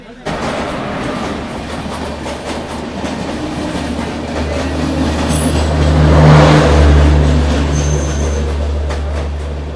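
A train stands at platform one of Balasore railway station, giving a loud, continuous rumble and hum with clanking that swells midway before settling back to a steady drone.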